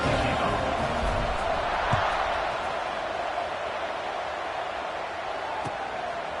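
A stadium crowd roars at the kickoff of an Ole Miss vs Tennessee college football game, a broad, steady wash of distant cheering that fills the space, with an announcer's voice faintly under it.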